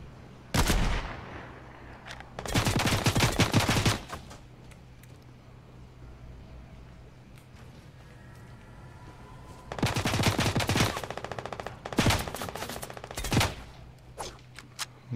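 Bursts of rapid automatic gunfire from a powerful weapon in Fortnite, played on Nintendo Switch: two loud clusters of fast shots early, a quieter lull, then two more sustained volleys, all fairly close.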